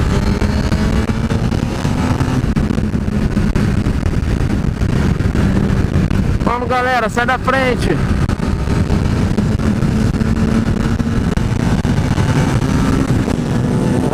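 A 2014 Honda CBR 1000 RR Fireblade rides at speed, its engine roar blending into a loud, steady wash of wind, with a brief burst of rapid revving near the middle and a rider calling out once.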